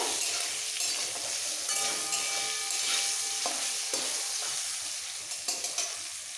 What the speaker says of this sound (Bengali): এবার আলুগুলো একটু লাল করে ভেজে নেব